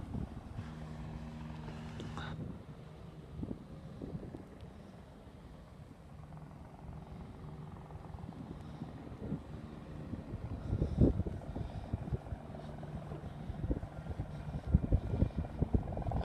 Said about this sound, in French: c'est l'hélicoptère de Benoît Allard qui arrive de son camp de chasse. On va le regarder atterrir.